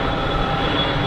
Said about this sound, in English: we'll take this KLM and the inbound on a mile final